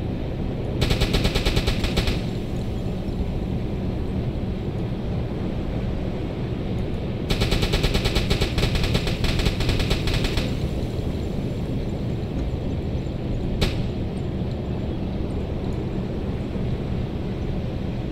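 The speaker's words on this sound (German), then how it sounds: "Dann schießen wir den jetzt mal in Brand." Bursts of rapid automatic fire from a submarine deck gun in the U-boat game UBOAT, two sustained volleys a few seconds apart over a steady low engine and sea rumble, with one sharp single shot later.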